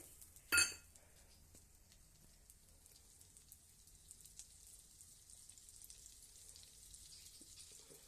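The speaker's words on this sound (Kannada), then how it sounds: "ಬೆಣ್ಣೆ ಫ್ರೈ ಹಾಕಿ ಕರಗ್ತಾ ಇದೆ" Butter melting and sizzling in a pan while starting a tempering for a paneer kofta gravy: a faint, steady frying hiss throughout after a brief clatter near the start, with no talking.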